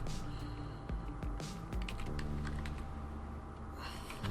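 Rapid clicking of keys on a computer keyboard as a website name is typed into a new browser tab, close and steady over a faint background hum.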